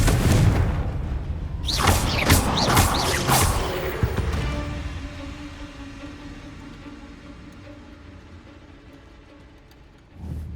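A Confringo blasting spell goes off in Hogwarts Legacy: a burst of several loud, sharp blast impacts early on, followed by a long fading rumble and low hum, with a further thud near the end.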